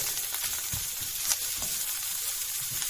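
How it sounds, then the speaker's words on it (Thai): Pickled mustard greens and egg stir-fry in a hot pan with a steady, close sizzle and scattered scraping stirs throughout, no voices. "ผัดอันนี้ไป ผัดผักกาดดองใส่ไข่"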